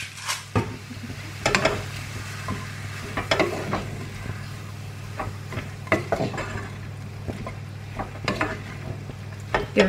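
Chilli and pepper being mixed into a homemade pasta sauce in a pan, with repeated scraping and knocking of a utensil against the pot over a low, steady simmer and hum.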